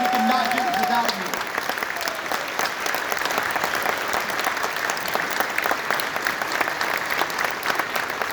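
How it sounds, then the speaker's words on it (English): Steady, dense clapping from a large audience, sustained at an even level throughout, with a brief voice heard at the very start. "Let's give them a round of applause."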